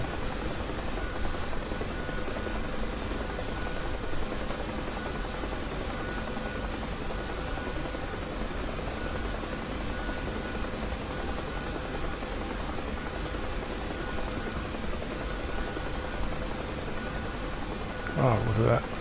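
A Huey helicopter flies in the video game DCS, giving a steady, broad rotor and engine drone that holds constant for the whole stretch at moderate level.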